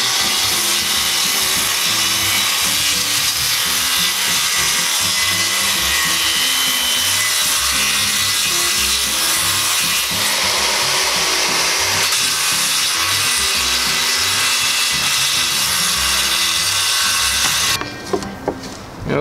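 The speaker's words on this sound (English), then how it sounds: "once I have all the cut done with the saw, I come back with the sawzall" A reciprocating saw cuts through a wooden deck board, a loud, continuous rapid rasping buzz that runs for nearly the whole stretch before stopping near the end.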